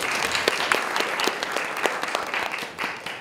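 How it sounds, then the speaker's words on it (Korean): An audience at a Korea University Sejong campus student council election hearing applauds the student government candidates. The clapping is dense and fairly loud, with a few sharp individual claps standing out, and fades slightly at the end. "다시 한번 큰 박수 부탁드립니다."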